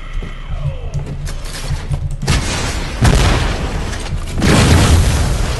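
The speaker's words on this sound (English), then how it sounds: "Why did you explode?" Video game explosions from Hard Reset give a loud booming blast followed by further rumbling bursts that build in intensity, with no talk.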